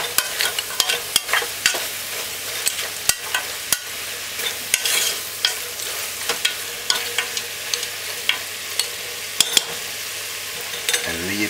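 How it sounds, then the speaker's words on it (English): Curry goat being stirred in a pot, loud sizzling under repeated sharp spoon scrapes and clacks against the metal, ticking along at an irregular rhythm close by. "You just want to stir this."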